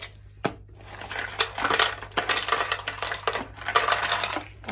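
Roasted multani mitti and slate clay pieces clink against a small plate, a close series of sharp, irregular clatters and taps with no voices.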